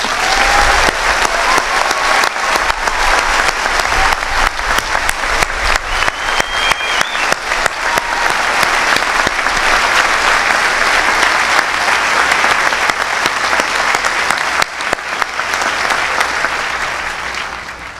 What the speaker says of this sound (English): please join me once again in saluting with our applause the graduates of the United States Naval War College class of